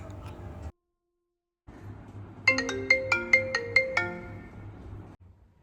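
A phone ringtone plays a bright, bell-like melody of quick repeated notes after a brief silence, over a low background hum.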